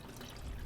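Radiator fluid pours and drains out of a Scat Pack car into a catch point, a steady low splashing trickle that swells slightly toward the end, close and fairly quiet.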